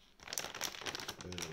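Crinkling and crumpling of packaging as the box of an MSI GTX 1660 Super Gaming X graphics card is opened, a dense run of close, rustling bursts lasting under two seconds.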